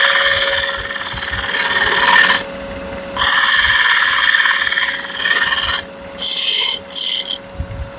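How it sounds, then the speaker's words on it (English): Bowl gouge cutting wood on a lathe while smoothing the bottom of a bourbon whiskey smoker, a loud steady scraping hiss broken into several bursts with short pauses and a constant motor hum beneath. "I'm going to clean it up with my bowl gouge"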